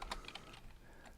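Keys on a computer keyboard clatter in a quick, faint burst of clicks while a Linux terminal command is entered, with no talking.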